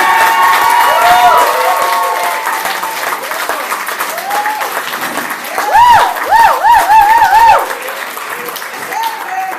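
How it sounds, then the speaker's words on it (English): Comedy club audience clapping and cheering as a comedian is brought on stage, a sustained dense burst of applause with whoops and shouts rising toward the end. "Start clapping right now for my man, Tim Wolcott in the building."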